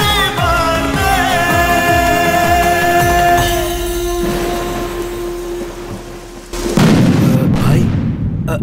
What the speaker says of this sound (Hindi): वो तो सिर्फ पटाखे ही फोड़ रहा है